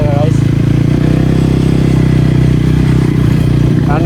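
A KTM Duke 250 Gen 3 motorcycle with no exhaust fitted runs close by, giving a loud, steady, bassy engine drone throughout, with a voice heard briefly at the start and end.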